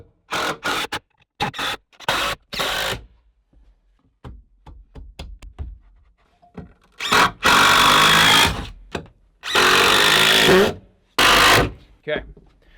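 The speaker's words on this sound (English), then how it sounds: "so we can go ahead and screw these in." A power drill drives screws into 2x4 lumber in a garage while an exhaust fan is installed: short bursts at first, then longer loud whirring runs, with gaps and some knocking between them.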